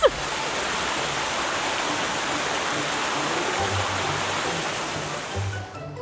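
Water gushes in a cartoon dinosaur and heavy-machine setting, a steady broadband rushing like a stream or waterfall that runs loud and unbroken for most of the stretch, with faint low tones beneath and a brief tail-off at the end.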